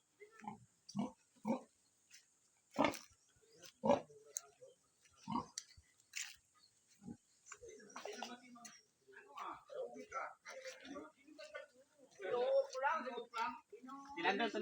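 A pig squeals in scattered harsh bursts at a slaughter, the cries coming close and in irregular runs, with people talking nearby throughout.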